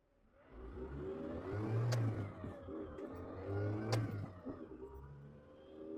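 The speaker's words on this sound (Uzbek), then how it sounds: "Noldan 100 gacha sinab ko'ramiz hozir." An Isuzu NPR82L refrigerator truck accelerates hard from a standstill. Its engine revs rise through two gear pulls, each with a brief dip between them. The sound is moderately loud from inside the cab, and no one talks over it.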